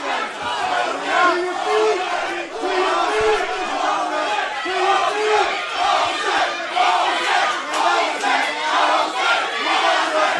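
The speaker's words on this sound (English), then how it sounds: "You hear the chants for Jose" Large crowd at an XFO mixed martial arts fight chanting in rhythmic unison, loud and sustained throughout with steady repeated vocal swells.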